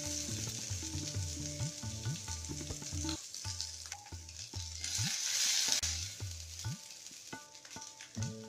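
Boiled, salted sweet corn fries in hot oil with mustard seeds and curry leaves in a home kitchen pan, a steady close sizzle and crackle with some stirring, while music plays underneath.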